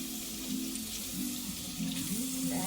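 Tap water runs steadily over goat meat being rinsed at a kitchen sink for Jamaican curry goat, a continuous close hiss with a few brief splashy surges and a faint hum beneath.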